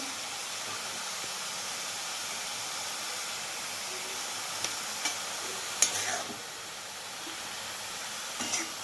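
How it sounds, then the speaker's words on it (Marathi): Chopped dill leaves sautéing in a pan, later joined by moong dal, give a steady, fairly quiet sizzling hiss throughout, with a few soft scrapes and clinks of stirring near the end. "चांगलं असं परतून घ्यायचं आहे व्यवस्थित"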